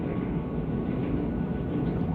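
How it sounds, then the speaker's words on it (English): A train passes nearby, a steady low rumble and broadband roar that holds constant throughout without breaks, fairly faint and heard alone. "There's a train."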